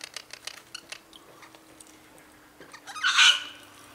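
Wild birds including a magpie are being fed outdoors, with soft pecking and scattered taps, faint chirps, and a brief louder squawk or flutter near the end.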